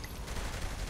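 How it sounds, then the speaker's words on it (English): Rapid automatic gunfire in Saints Row III, a dense, loud continuous burst of shots filling the moment with no talk over it. "Hey, watch those damn shots."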